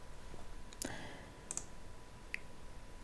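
A computer mouse gives a few crisp clicks while saving a setting in reference-manager software, close and quiet, with a faint steady hum beneath and no speech.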